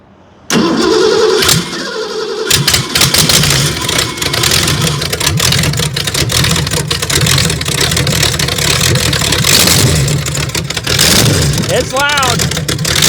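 A small engine with a choke sputters into life after a brief silence and keeps running loud and rough, revving unevenly throughout, with a voice briefly heard near the end.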